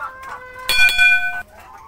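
Backyard laying hens cluck beside a rooster crowing loud and close. The crow rises sharply mid-clip over steady hen chatter, then cuts off.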